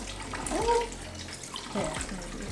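Tap water runs steadily into a sink to rinse and cool cooked pasta, a soft continuous splashing wash at moderate distance with a couple of brief louder surges.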